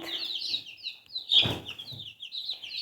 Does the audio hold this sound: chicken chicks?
yes